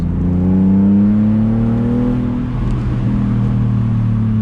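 A BMW sports car engine, from a BMW M240i or Z4, drones from inside the cabin while driving, a low steady hum with a brief rise in revs before settling back to a smooth cruise.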